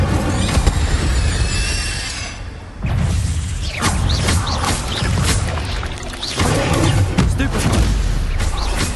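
An Incendio fire spell is cast in combat in Hogwarts Legacy on PS5, with loud booming bursts and crackling impacts in dense clusters and a brief lull in the middle.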